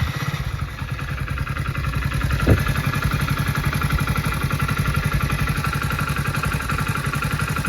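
A motorcycle engine catches with a quick start and settles into a steady, close, rhythmic idle, its even mechanical chugging running alone.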